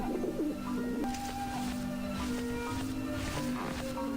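Cooing birds in the video game Grim Fandango, several soft repeated coos layered over a steady low game tone and background ambience, close and continuous.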